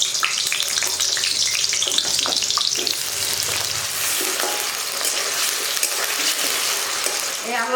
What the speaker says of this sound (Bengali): এই তেলের মধ্যে প্রথমে আমি আলুগুলোকে ভেজে তুলে নেব।